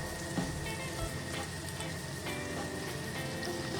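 Chicken gizzards and liver fry in a pan, giving a soft, steady sizzle with occasional light crackles and a few faint clinks.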